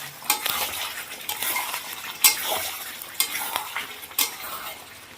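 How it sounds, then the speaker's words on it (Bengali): Chicken biryani masala with ginger and salt stir-fried in hot oil, a steady sizzle broken by several sharp scrapes and clinks of a spoon against the pan, close and alone with no talk. "আর ভালো করে কষিয়ে নেব"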